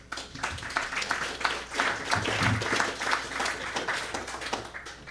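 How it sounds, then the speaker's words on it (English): Applause at the end of a presentation during a water district meeting, sounding as a modest scatter of claps from a small group, fairly faint and irregular across the few seconds. "You got applause, Rick."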